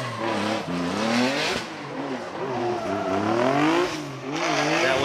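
A Toyota GR Yaris and a Nissan Z drifting at a Formula Drift Japan event, loud close engines revving and rising and falling in pitch over about five seconds, with tire squeal mixed in and no voices.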